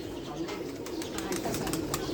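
Pigeons cooing in a pair kept at home, a low continuous burbling coo that stays close and steady throughout without any talk over it.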